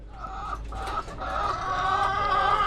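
A flock of chickens clucks and warbles continuously inside their coop, overlapping calls filling the enclosed space, with no talking.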